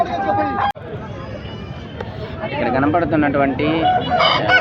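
Country roosters crow repeatedly amid a noisy village poultry market babble, while someone talks over the calls.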